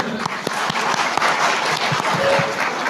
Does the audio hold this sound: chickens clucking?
no